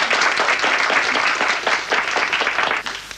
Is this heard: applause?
yes